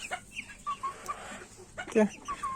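Village chickens and roosters cluck close by in short, uneven bursts, with one louder squawk near the end and a faint voice in the background.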